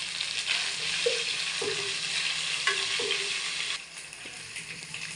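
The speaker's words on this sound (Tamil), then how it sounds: "கொஞ்சமாக நம்ம வந்து கருவேப்பிலை ஆட் பண்ணிக்கலாம்" Curry leaves sizzle in hot oil after ginger and garlic for a mushroom kurma, a steady broadband crackle with a few soft stirring scrapes, close and moderately loud, easing off slightly near the end.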